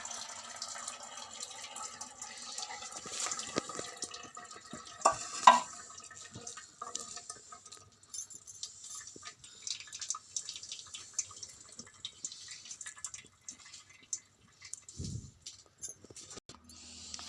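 Water trickles and drips as it is poured off boiled Maggi noodles, with faint splashes and clinks spread over a long stretch and a brief low gurgle near the end.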